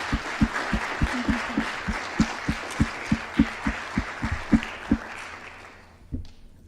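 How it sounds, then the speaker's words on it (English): Applause from the audience at the SpaceVision 2013 space conference, a steady wash of clapping over regular low thuds, fading out near the end. "let's give one more big round of applause"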